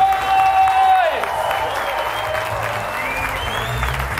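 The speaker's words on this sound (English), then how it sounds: "give a roaring round of applause for the one, the only, Mr." A live audience bursting into applause as a speaker is introduced at an event, a dense sustained wash of clapping filling the room, with a tonal sweep at the start and a brief voice beneath.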